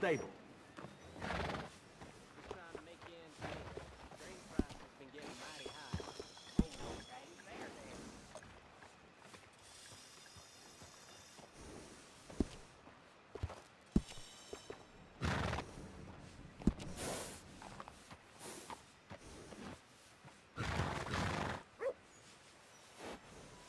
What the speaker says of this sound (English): This horse is one of the finest you can get.